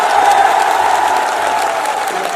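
Applause from a large crowd at an outdoor political election rally in Ladnun, a dense and steady wash of clapping at a constant level with faint cheering mixed in.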